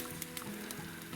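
Pike fillets sizzle in a frying pan, a soft, steady crackle of hot fat with faint stirring, brief and fairly quiet.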